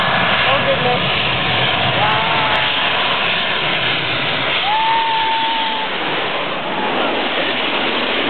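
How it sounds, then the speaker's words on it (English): A loud, continuous roar of a plane coming in to land sweeps past close by, with a short excited exclamation partway through. "That is a plane landing!"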